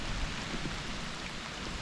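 Steady, dense rain hisses outdoors, a constant wash of patter with no voices.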